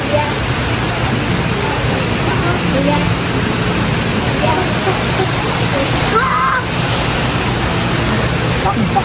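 Natural spring water flowing steadily beside a cafe in Taytay, Rizal, a loud continuous rushing wash with a person talking over it.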